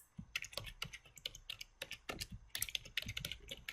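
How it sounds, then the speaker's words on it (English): Fingers type on a computer keyboard, close and clear, with irregular bursts of clicky keystrokes and a few brief pauses, as text is deleted with backspace and a new name is entered. "So I deleted sheet 1 simply using backspace on my keyboard, and now I tab the new name called monthly finances."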